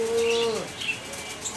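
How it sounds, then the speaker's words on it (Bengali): Pigeons kept at a home in Sonargaon, Narayanganj give a brief close coo-like tone followed by soft wing flutters, all within a second and a half. "তো বেশ কিছু কবুতর আছে আজকে।"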